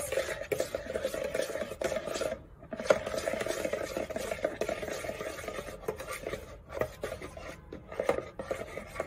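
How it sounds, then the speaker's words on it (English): Pancake batter mixed with oil in a bowl, producing a continuous close rasping swish of the utensil against the bowl with brief pauses and occasional light knocks, no voices. "So I'm going to add oil that much, and we're going to mix."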